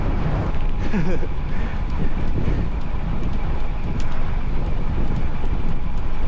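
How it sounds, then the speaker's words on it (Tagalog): Strong wind buffeting the microphone during a long bicycle ride, a steady loud rumbling roar throughout, with someone talking underneath the gusts. "Nakapanghina kasi yung ano, lakas ng hangin."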